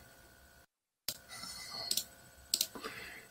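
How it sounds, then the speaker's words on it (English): Computer mouse clicks while working in LibreOffice with Python code, appearing as a few sharp, close, moderately loud clicks in two quick pairs over faint room noise. "Do I have to do a lot of clicking with this?"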